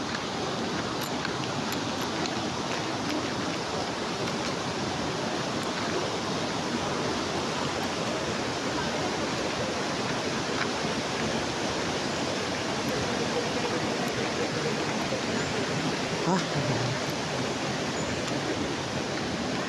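Little Falls waterfall at Ditumabo, San Luis, Aurora, pours in a steady, full roar that stays even and loud for the whole stretch, with no voices over the rushing water.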